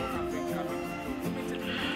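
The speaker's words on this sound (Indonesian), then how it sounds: "ini pejantannya untuk kambing susu, ini jenis Alpin dari pegunungan Alpen Swiss" An Alpine dairy goat buck, a Swiss mountain breed, bleats in a loud, wavering call with rapid tremolo pulses, heard close up with farm background noise.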